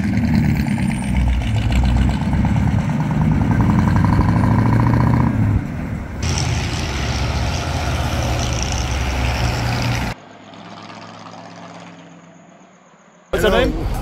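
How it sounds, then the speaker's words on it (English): A 1953 Buick convertible with its original V8 runs loud and steady, a deep rumbling engine note for about ten seconds before cutting to quieter background and a brief noise at the end; voices may be faintly present. "In my opinion, the sound of a V8 changes the whole experience."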